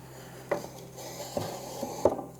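A wooden base piece slides into its slot, making a few short, close knocks and brief rubbing scrapes of wood on wood, with three distinct taps spread over about two seconds.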